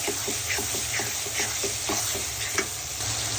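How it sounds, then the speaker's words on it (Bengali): Beef tripe with ginger paste and spices being stirred in a pan, a steady sizzle under repeated soft scraping strokes of a spoon, close and continuous with no talk. "ভালো করে নেড়ে মশলা একটু মিশিয়ে নিব"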